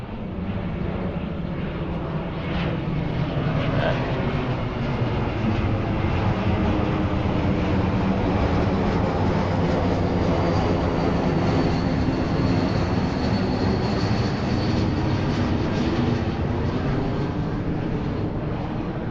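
Aircraft engine roar from one of the last flights before an airport closes during Cyclone Jasper, a loud, steady broadband rumble sustained throughout with no talk.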